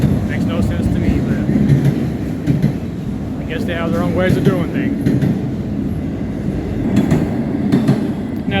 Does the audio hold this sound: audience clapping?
no